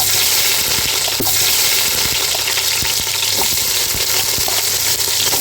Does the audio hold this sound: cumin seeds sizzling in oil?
yes